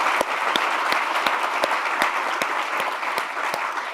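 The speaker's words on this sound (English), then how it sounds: "So how about a round of applause for our panel," A seated audience gives a round of applause for a discussion panel, a dense, steady wash of many hands clapping with sharper individual claps standing out, loud and continuous throughout.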